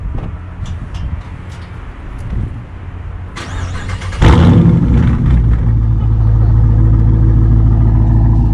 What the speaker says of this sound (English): So this is a warm start.